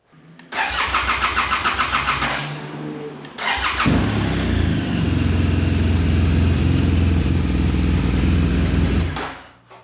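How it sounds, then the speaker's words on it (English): An auction motorcycle engine turns over in a short cranking burst, stops, then catches on a second attempt and settles into a loud, steady close-up idle before cutting off. "So, let's start the bike and see if it runs to temperature."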